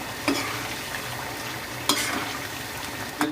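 Chicken karahi with crushed white cumin is stirred in a hot pan, with a continuous sizzle of frying and a few sharper scraping strokes of the spoon.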